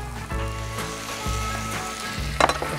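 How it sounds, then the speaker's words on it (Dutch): Onion, garlic and bell pepper sizzling in a paella pan, a steady loud frying hiss with occasional stirring scrapes, close up and without talk. "Dit is mooi aangefruit, dus de ui, de knoflook, de paprika."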